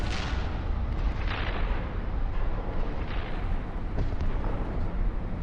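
Rocket launcher blasts and explosions from the video game Halo 4, deep booming bursts over a dense, rumbling battle din that keeps going throughout, with no talking.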